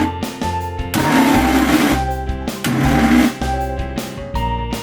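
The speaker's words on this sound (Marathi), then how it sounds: "त्यासाठी सुरुवातीला मिक्सर सात ते आठ वेळा फक्त चालू बंद करा" A kitchen mixer grinder runs in short on-off pulses, grinding soaked poha into a thick batter; loud close whirring bursts alternate with brief pauses, no talking.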